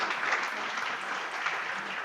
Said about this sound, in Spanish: Aplauda al Señor tranquilo.